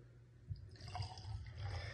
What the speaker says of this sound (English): We'll go ahead and give it a pour.